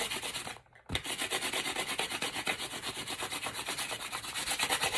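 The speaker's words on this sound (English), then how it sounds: "I'll go ahead and sand it just so you can see when we put epoxy back on" A glitter epoxy tumbler cup is hand sanded in quick, even back-and-forth strokes, a loud rhythmic scraping that pauses briefly near the start and then continues steadily.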